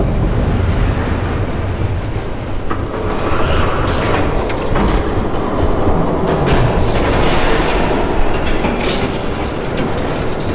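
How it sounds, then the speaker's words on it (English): A train rumbles past in the Batman Telltale Series video game, a loud continuous roar with metallic clatter and brief wheel squeals, close and alone without voices. "There's a train coming."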